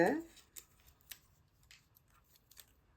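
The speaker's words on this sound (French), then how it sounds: "Je vais en couper un petit bout parce qu'il arrive dans mon pli." Scissors snip small scraps of paper for a collage, with several short, close, quiet cuts spaced apart and a low voice heard at the start.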